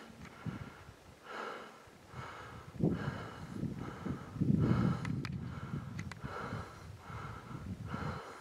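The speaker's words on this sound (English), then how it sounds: "Sorry for panting, steep climb." Heavy panting breaths of a hiker climbing a steep hill in the Montana backcountry, repeating in a steady rhythm of close, loud exhales and inhales with faint footsteps, no talk.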